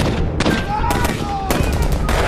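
Rapid bursts of gunfire from a tank attack in a war film crackle loudly and close, sharp repeated shots layered over a dense, noisy battle din.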